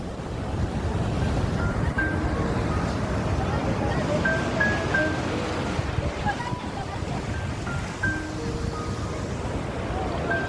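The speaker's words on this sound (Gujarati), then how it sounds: "આવી ગયો છે દરિયો, જોઈ શકો છો સરસ મજાનો." Sea waves wash steadily onto the shore at Jhanjmer beach near Bhavnagar, Gujarat. The surf is a continuous, fairly loud roar mixed with wind buffeting the microphone, and faint voices can be heard in the background.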